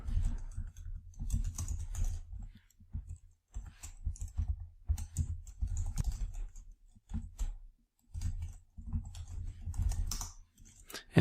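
Quiet typing on a computer keyboard, with irregular runs of soft key clicks broken by short pauses, close and alone without any talk.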